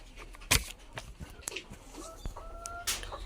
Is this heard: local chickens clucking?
yes